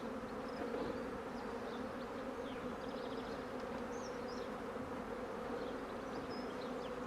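A foraging honey bee colony hums during a hive inspection, a dense, steady buzz with a strong droning tone and scattered higher buzzes of individual bees flying close by, with no voices.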